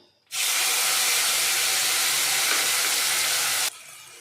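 Bay leaf and whole dried red chillies sizzle in hot oil for a vegetarian spicy paneer, a loud steady broadband frying hiss that starts abruptly, holds for about three seconds, then cuts off, with no voices.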